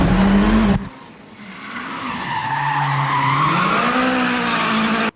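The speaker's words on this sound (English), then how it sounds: "it was always fun to do a little Tokyo drifting going around corners" Car tires squeal and skid while the car drifts around a corner, with a loud engine at the start, then a long wavering screech that holds steady before cutting off.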